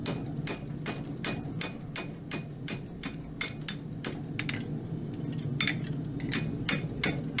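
A hot horseshoe is hammered level on an anvil in a farrier's forge, with a quick run of sharp ringing metallic blows landing in an uneven but steady rhythm, each strike close and clear.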